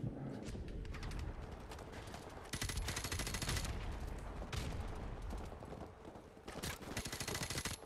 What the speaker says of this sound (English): Holy moly, I'm getting shot at like crazy